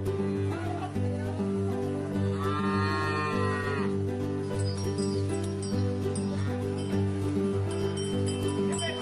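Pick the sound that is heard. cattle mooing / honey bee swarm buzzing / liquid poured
cattle mooing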